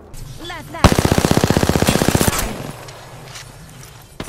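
Automatic gunfire in the video game Apex Legends: a loud, rapid burst of evenly spaced shots lasting about a second and a half, followed by fainter scattered shots and background game noise.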